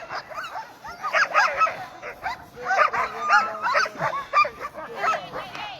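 Alaskan husky sled dog teams at a race near the Knik Bar by Settler's Bay bark and yelp excitedly in overlapping bursts, moderately distant, with no talking over them.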